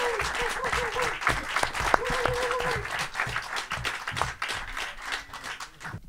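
A television studio audience applauds steadily for a football coach and a newly signed player arriving as guests, with dense, sustained clapping throughout and a voice talking over the start.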